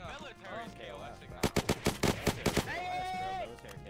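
Gunfire in the Unturned video game: a rapid burst of about nine sharp, loud shots in quick succession, with voices talking just before and after the volley.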